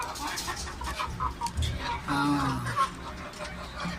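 Native desi chickens cluck on a small farm that also keeps pigeons, with intermittent short calls at moderate distance over a busy background.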